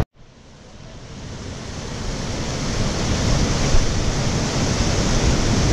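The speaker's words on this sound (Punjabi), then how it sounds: "ਹੋ ਬਹੁਤ ਉੱਚਾ ਵਾਟਰਫਾਲ ਜਿਹੜਾ ਚੱਲ ਰਿਹਾ" A very high waterfall in Himachal, a broad, steady roar of falling water that rises from quiet to loud within the first seconds and then stays constant and dense, no voices.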